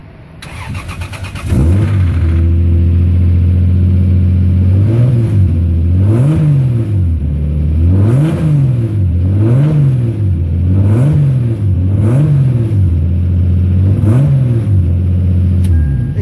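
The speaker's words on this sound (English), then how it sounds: "This is an example of a looseness or extra clearance inside of an engine." A car engine cranks and starts, then is revved up and down several times in a steady rhythm, loud and close, with a rough knocking underneath from looseness or extra internal clearance.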